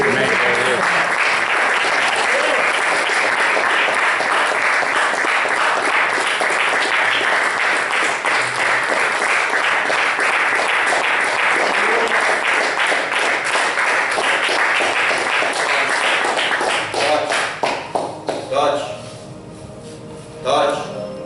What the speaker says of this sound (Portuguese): Levantamos salva de palmas para Ele.